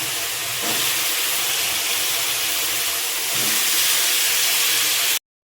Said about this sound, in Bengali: এবার এই সবজিগুলো আমি দিয়ে দিচ্ছি